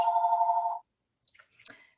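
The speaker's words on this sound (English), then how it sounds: "Sorry about my phone ringing." A landline telephone rings with a steady electronic tone for under a second, loud and close, then stops, followed by faint scattered clicks and rustling.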